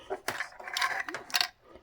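A broken Dekco 2K WiFi camera rattles as it tries to rotate, a few quick plastic clicks and clattering bursts, close and faint, in short uneven spurts.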